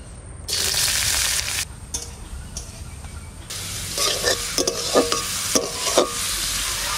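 Onions and chillies crackle and sizzle in hot oil in a wok, rising in loud bursts with intermittent scraping from stirring, then a steadier spitting fry.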